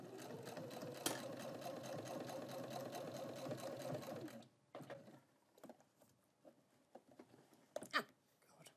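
Sewing machine stitching fabric for a roller towel, running steadily and loudly for several seconds then stopping, followed by quieter clicks and handling sounds as the fabric is adjusted; speech occurs nearby.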